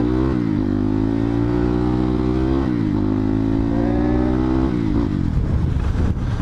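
A Crossfire RM 250 motorcycle engine revs loudly and close, climbing and holding in pitch through several throttle blips before dropping to a rougher, rattling idle.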